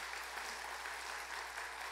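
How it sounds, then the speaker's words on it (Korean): Steady applause from a church congregation at a Sunday worship service, many hands clapping in an even, continuous wash at moderate distance. "박수로 여러분 격려해 주시고"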